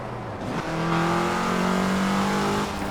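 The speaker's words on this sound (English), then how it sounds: "That engine sound is gorgeous." A car engine in Forza Horizon 4 revs loudly and steadily, its tone climbing and holding as it accelerates, with no voices over it.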